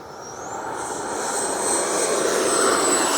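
An FMS F-86 80mm electric ducted-fan model jet flying overhead, a steady high whine and whoosh that slowly grows louder as it passes near.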